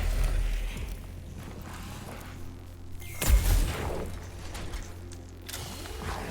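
Weapon fire in the Warhammer 40k: Mechanicus video game, a heavy booming blast near the middle over a low mechanical hum, with a few weaker thuds around it.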